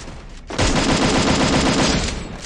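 Rapid automatic gunfire from Free Fire gameplay aimed at a police jeep, a loud sustained burst of closely spaced shots starting half a second in after a short quieter lead-in.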